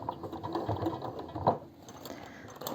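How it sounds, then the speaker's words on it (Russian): A sewing machine runs a seam around the edge of a fabric-scrap cosmetic pencil case, a fast rattling mechanical stitching hum with small pauses, close and clear. "И вот так аккуратненько по всему периметру прокладываю строчку."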